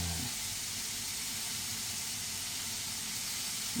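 Fish pan-fries in hot oil in a home kitchen, giving a soft, steady hiss and sizzle that stays even throughout and is heard faintly, alone, with no talking over it.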